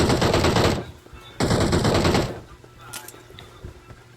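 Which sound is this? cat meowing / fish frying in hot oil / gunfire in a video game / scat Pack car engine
gunfire in a video game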